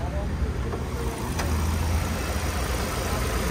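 A Chevrolet Gentra idles at a used-car market in Sergeli, giving a steady low engine rumble that holds evenly throughout, with faint background murmur.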